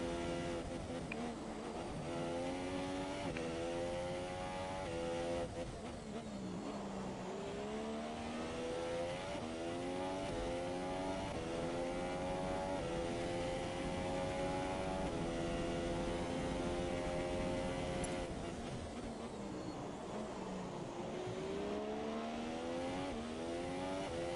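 A Force India Formula 1 car in the F1 2017 racing game howls continuously at high revs, its whining engine pitch climbing and dropping through quick gear shifts as it takes corners, steady and loud with no voices.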